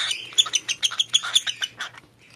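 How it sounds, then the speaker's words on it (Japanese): A hand-fed baby bird, about eighty days old, gives a rapid run of bright, high chirps at its evening meal, close and clear over a faint low hum. "お腹いっぱいになると、ピッというさえずりを出して、もういらないって言うんですよ"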